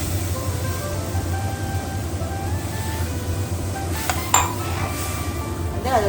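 A spoon clinks a few times against a pan while milk is stirred into Japan chicken, with sharp, brief metallic taps over a steady kitchen hum.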